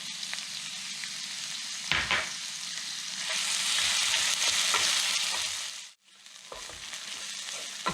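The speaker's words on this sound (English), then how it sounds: "To this small fry pan I'm going to add some diced red onion and some" Diced red onion and mild green peppers fry in a small pan with a steady, close sizzle. The hiss swells louder for a few seconds as the pieces are stirred, breaks off briefly, then settles back to an even crackle.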